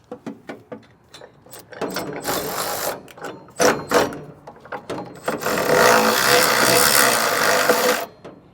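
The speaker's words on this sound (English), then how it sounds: "So now I'm going to tighten with a 19mm socket" A ratchet with a 19mm socket tightens a bolt on a Curt TruTrack weight distribution hitch. Close, loud clicking bursts and longer runs of rapid ratcheting come with a few faint handling knocks, and no one talks.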